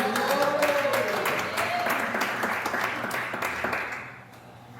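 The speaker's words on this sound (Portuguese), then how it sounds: "E mais palmas para Jesus." Clapping from a church congregation, a fairly quiet, steady patter of many hands with background voices, slowly tapering off over a few seconds.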